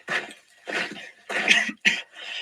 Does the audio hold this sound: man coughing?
yes